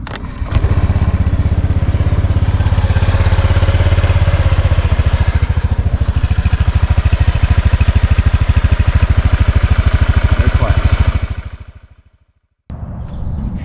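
A 2019 Honda Vision NSC110 scooter engine starts up and settles into a steady, close idle for about ten seconds before cutting off, followed by a brief quieter noise.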